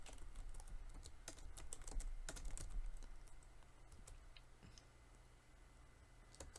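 Close, quiet clatter of a computer keyboard as code is typed, irregular key clicks with a few brief pauses over faint room hum, no talking.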